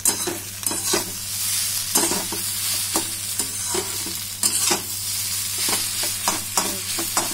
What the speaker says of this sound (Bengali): এগুলো ভাজা ভাজা হয়ে গেছে, এভাবে ভালো করে মিশিয়ে দিতে হবে। আর এটা কিন্তু আমি জোর আঁচেই করছি।